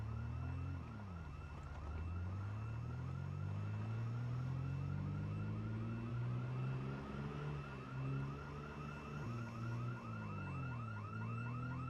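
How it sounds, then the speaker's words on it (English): A house alarm in a zombie video game wails continuously with a repeating electronic pulse over sweeping tones, loud and unbroken with no talk. "I hear a house alarm."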